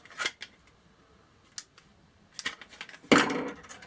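EDC scissors snipping through threads, a few short crisp metallic snips and clicks spaced apart, the last one louder and longer, with quiet gaps between.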